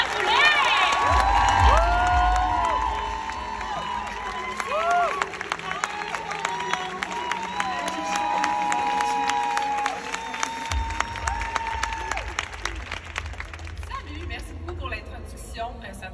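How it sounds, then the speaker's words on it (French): A live audience bursts into loud cheering, whoops and applause for Vanessa Boulet, peaking early and then settling into sustained clapping and crowd noise with shouts mixed in, fading toward the end. "Je vous demande une grosse main d'applaudissement pour Vanessa Boulet!"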